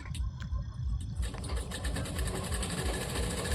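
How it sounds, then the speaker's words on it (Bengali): A sewing machine stitches a bag made from a cut rice sack, running in a steady, close mechanical whir with a few light clicks near the start. "এই যে দেখতে পাচ্ছ আমি কিন্তু এখন সেলাই করে দিচ্ছি"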